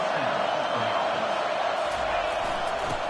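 Steady, dense crowd roar from a stadium in an American football video game, loud and continuous throughout with occasional swells, under a faint commentator-style voice.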